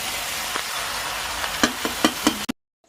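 Chicken being braised (kosha) with chillies in a pan gives a steady soft sizzle and frying hiss, with a few sharp knocks of a stirring spoon before it cuts off abruptly.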